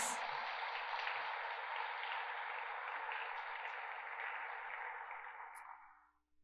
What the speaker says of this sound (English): Please, a round of applause for our esteemed judges.